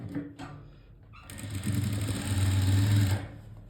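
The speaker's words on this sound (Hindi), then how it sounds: "अब हम इलास्टिक के ऊपर सिलाई लगाएंगे, उसे खींच के" Sewing machine stitching over stretched elastic on a ready-to-wear sari: a short start, then a steady, close, rapid whirring run of stitches for about two seconds before stopping.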